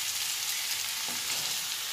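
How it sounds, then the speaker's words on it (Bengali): Vegetables fry for a chicken soup, giving a continuous bright hiss of sizzling oil, even and close, with no speech. "কিছুক্ষণ ভাজতে হবে এটাকে, এই 1 মিনিট মতন।"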